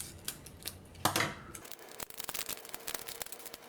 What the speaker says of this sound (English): Pair of scissors,